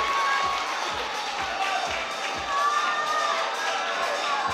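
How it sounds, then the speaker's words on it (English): Crowd at a climbing competition grand final cheering and shouting steadily throughout, a dense roar of voices with rhythmic low thumps underneath, as if stamping or clapping, lasting the whole stretch. "Come on, Max, he's getting the crowd going."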